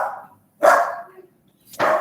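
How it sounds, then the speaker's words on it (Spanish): Dogs at a house bark excitedly at strangers at the door, two loud close bursts of barking separated by a short pause. "los perros se alborotan con gente extraña"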